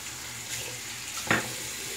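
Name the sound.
water running from a tap to warm up a razor blade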